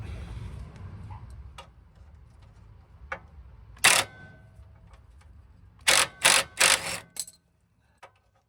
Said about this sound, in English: So on the bolt head, it takes a 17mm wrench. I'll be using my ratchet.